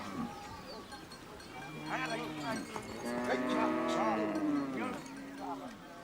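Cattle in a Maasai village lowing repeatedly, several long drawn-out moos rising and overlapping, fairly close and loud, with other livestock faintly in the background.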